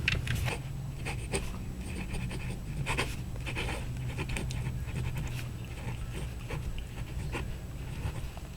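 A fountain pen filled with Noodler's Lexington Gray ink writes on paper up close, making soft, irregular scratching strokes over a steady low background hum.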